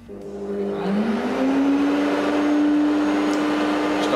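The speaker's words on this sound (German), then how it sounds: "Staubsauger fährt hoch." A Festool construction vacuum cleaner starts up, its motor whining upward in pitch into a steady, loud roaring hum of suction, close by with no talking.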